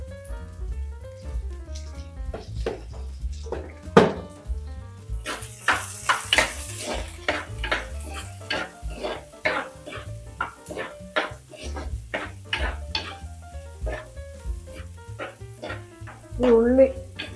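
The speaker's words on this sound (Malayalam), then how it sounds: "ഈ ഉള്ളി സവാളയില്ലേ ഒന്ന് വഴന്ന് വരട്ടെ." Onions sautéing in a pan for a tomato-mango curry, with a steady sizzle under repeated stirring and scraping strokes, close up, and metal utensil knocks against the pan.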